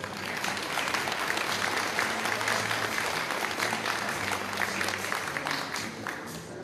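A crowd applauds steadily and fairly loudly at the 42nd anniversary ceremony of the Universidad Pedagógica Nacional unit 162 in Zamora, Michoacán, with dense continuous clapping filling the whole stretch and a faint low hum beneath.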